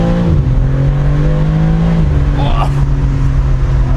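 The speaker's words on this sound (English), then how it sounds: "You can hear those pops and bangs, and then it really shifts." A BMW M3 engine drones loud and close as the car accelerates through a 60 zone, with a brief crackle from the exhaust near the end.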